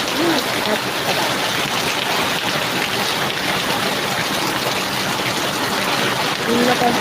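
Steady, dense typhoon rain pouring down, a continuous broadband hiss with running water beneath it and faint voices in the background.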